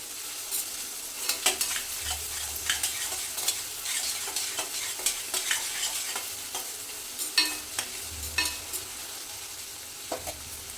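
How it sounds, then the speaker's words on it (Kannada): Onions frying in a pan, with a soft continuous sizzle broken by frequent sharp scrapes and clinks of a spoon stirring against the pan, close and irregular. "ಈರುಳ್ಳಿ ಸ್ವಲ್ಪ ಫ್ರೈ ಆಗಬೇಕು"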